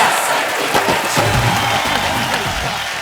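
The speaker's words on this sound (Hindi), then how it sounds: "आप सबकी जोरदार तालियों के बीच" A studio audience on The Kapil Sharma Show applauds and cheers, a loud continuous roar of clapping mixed with shouts and whoops that carries throughout at full strength.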